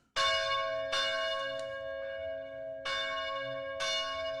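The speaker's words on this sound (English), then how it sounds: "The bell, yes, the bell." Church bell rings out in several loud, clear strikes at uneven intervals, each tone ringing on with long sustained overtones between blows.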